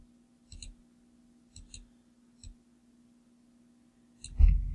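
Computer mouse clicks sound in a quiet room: a quick double click, another double click, a single click, then a final pair of clicks followed by a faint bump.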